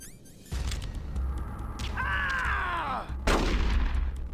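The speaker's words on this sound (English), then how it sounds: "Dodging bullets there like Neo." Gunfire from the Ocelot boss fight in Metal Gear Solid: The Twin Snakes, a video game: loud bursts of game shots with a sliding whine in the middle and another sharp blast near the end, over a steady low game rumble.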